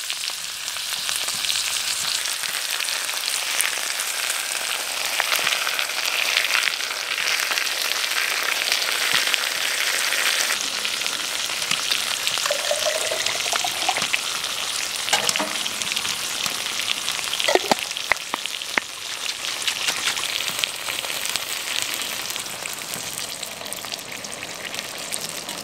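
Spiced tomato sauce sizzles and fries loudly in a hot pot on a wood stove in a woodland cabin, a steady broadband crackle lasting throughout with a few brief clinks of stirring.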